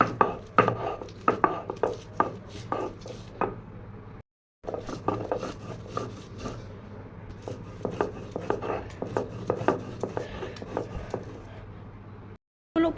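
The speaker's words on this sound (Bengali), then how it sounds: "এখন আমি সর্ষে, কাঁচামরিচ, বাদাম এগুলো সুন্দরভাবে বেটে নিব" Mustard seeds, green chillies and nuts are ground into a paste, heard as a close series of sharp knocking and scraping strokes in uneven rhythm, with a short pause midway.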